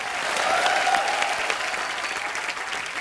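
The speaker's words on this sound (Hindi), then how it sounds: "आइए रवीना जी के लिए एक बार जोरदार तालियां" A studio audience on a comedy talk show claps warmly for an actress, a dense, steady burst of applause that stays at a moderate level and tapers a little near the end.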